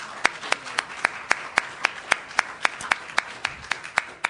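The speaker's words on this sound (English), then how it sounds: "Let's give him a round of applause." A single person claps at a steady, even rhythm, about sixteen sharp, close claps in a row, standing out against a quiet room, at an alumni event celebrating UVA and UNC.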